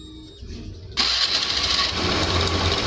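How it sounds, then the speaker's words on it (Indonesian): A Honda Scoopy FI scooter engine fires up about a second in, jumping from near quiet to a steady, loud close-up running drone that holds to the end. "kita akan coba tes mesinnya, kita hidupkan ya"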